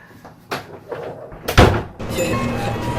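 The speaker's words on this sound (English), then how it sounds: "can you close the door?" A door is swung shut indoors, with a few lighter knocks and thumps leading up to one loud, close slam, then a lingering rumble of room noise.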